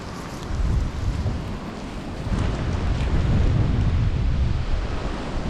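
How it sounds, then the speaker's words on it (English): Wind gusts in a park buffet the microphone in a low, roaring rumble that swells and eases, with a stronger surge partway through and no talk. "It's pretty windy today."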